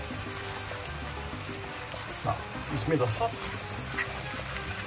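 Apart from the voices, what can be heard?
masala frying in a pan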